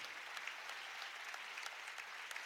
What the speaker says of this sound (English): the crowd gives both teams a hand here